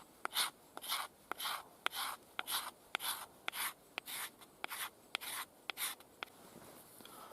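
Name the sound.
knife spine scraping fat wood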